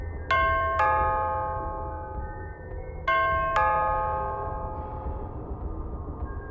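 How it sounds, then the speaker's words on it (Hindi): A two-tone doorbell chime rings twice in a row, each pair of bright tones ringing out and decaying, over a low steady hum. "कानों में डोरबेल की आवाज"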